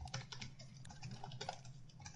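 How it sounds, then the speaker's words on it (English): Rapid, steady clacking of fingers typing on a computer keyboard, close and fairly quiet, with no talk over it. "Are you typing again, Jamie?"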